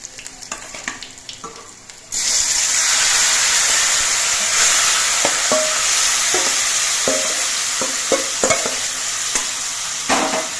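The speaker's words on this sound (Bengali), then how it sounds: "কাঁচা লঙ্কাটা একটু ভাজা হয়ে যাওয়ার পর এর মধ্যে কচুর লতিগুলো দিয়ে দিচ্ছে" Taro stolons dropped into hot oil with black cumin and green chilies in a kitchen pan set off a loud, steady sizzle. It starts abruptly and continues, with occasional clinks of stirring, close up and without talk.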